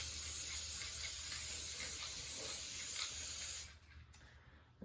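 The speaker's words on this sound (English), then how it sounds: "And you're just going to spray some on." Spray adhesive hissing steadily from an aerosol can, a close, loud continuous spray for about three and a half seconds that then cuts off into near quiet.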